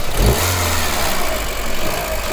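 A VW Polo Mk5 1.4 MPI engine revs once sharply near the mic, then settles into a steady, loud idle-like drone for the rest of the moment, with no talk over it.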